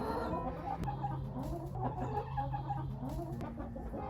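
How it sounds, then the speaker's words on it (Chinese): Backyard free-range chickens cluck and chatter together while waiting to be fed, a continuous, fairly close mix of overlapping clucks with a short brighter call near the end. "这些鸡等着吃东西叫唤"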